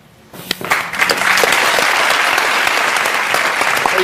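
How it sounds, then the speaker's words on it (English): Studio audience on the Dr. Phil daytime talk show breaks into applause, starting from near quiet and swelling within a second into sustained loud, dense clapping that continues to the end. "You know why these people are clapping when you walk out?"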